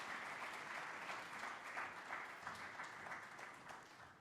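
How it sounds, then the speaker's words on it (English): A faint, steady round of applause from the audience fills a stock exchange listing ceremony for MTN Rwandacell, continuous clapping that holds level throughout. "A big round of applause one more time for her"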